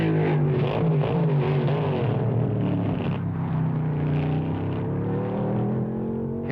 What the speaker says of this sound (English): Don Cope of Pennsylvania drives his Ford pickup truck to a class win in I stock.